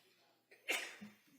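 A single sharp sneeze bursts out in a quiet courtroom during a murder trial, preceded by a short intake of breath and followed by a faint murmur.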